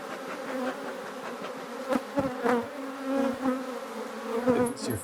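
Many bees swarm and buzz in a dense, continuous drone at close range, the hum swelling and fading as individual insects pass near, with no talk over it.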